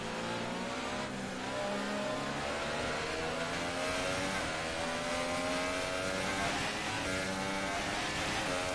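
F1 car engine revving on a hot lap in the F1 2018 video game, a continuous high-pitched engine whine rising and falling with gear changes throughout.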